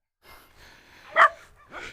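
Large dogs, a Kangal and a Cane Corso, bark in short bursts: a few soft yips, then one loud sharp bark and a final weaker one, all close by within two seconds.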